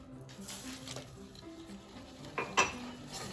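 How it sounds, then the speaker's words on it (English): Sugar and milk get stirred in a pot with melted butter for no-bake peanut butter oatmeal cookies, a few quiet scrapes and clinks of the utensil against the pot, including one louder knock near the end. "We're going to stir this to combine."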